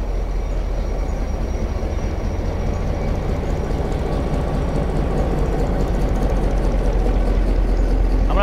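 An old passenger train, the Brahmaputra Express, with patched and battered carriages running between Mymensingh and Dhaka, gives off a steady, loud, close rumble that holds constant throughout, with no talking.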